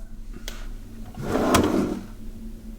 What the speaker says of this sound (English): I know their job is to make sure, what the heck, that something is in this drawer.